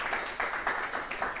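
A small audience claps briefly after a scientific lecture, with a few soft, scattered bursts of hand claps, fairly quiet and close.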